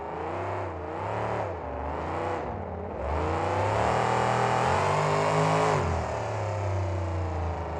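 A battered 2003 monster truck engine revs hard at an arena freestyle run in New Orleans, roaring in repeated surges that rise to a long, loud sustained howl before easing off, with no talking.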